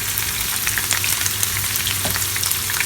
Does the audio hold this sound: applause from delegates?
no